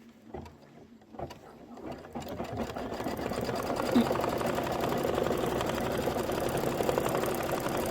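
An embroidery machine stitches a placement line on cotton-polyester fabric, starting with a few ticks and then building into a steady, rapid mechanical whirring hum that runs continuously, close and without talk.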